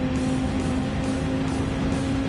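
American car engine held at wide open throttle in a racing video game on the Nürburgring endurance track, a steady droning roar with a sustained tone, constant and unbroken throughout.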